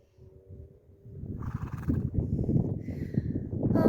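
A therapy horse in a herd setting gives a loud, close whinny, a rising nasal neigh that builds over a few seconds, with no talk.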